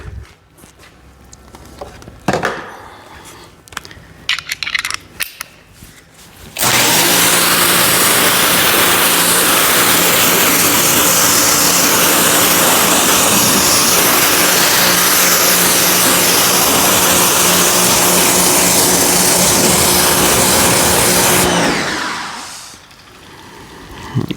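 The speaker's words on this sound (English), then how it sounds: "let me do a quick rinse here" A pressure-washer water sprayer runs continuously for about fifteen seconds during car detailing, a loud steady hiss of spray with a motor hum under it, starting and stopping abruptly.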